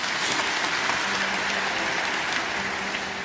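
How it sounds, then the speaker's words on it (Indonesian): A church congregation applauds during a worship service, giving a brief, dense, even burst of clapping that stays level and fairly close for a few seconds. "Kasih tepuk tangan untuk Tuhan Yesus."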